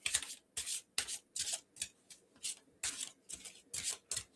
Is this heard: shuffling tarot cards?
yes